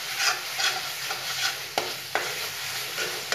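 Masala fried in hot oil for Paneer Kofta sizzles steadily while a spoon stirs it in rhythmic scraping strokes, close and loud, with no talking.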